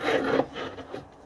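A wooden top half of a bronze-casting box is set down onto a packed sand mould, giving a short dry wooden scrape and rub with a softer bump after it, close and fairly quiet.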